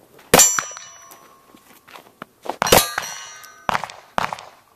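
Several sharp metallic clangs of bullets hitting a steel target at a handgun match ring out, each hit followed by a brief resonant ding, spaced irregularly with quieter gaps between.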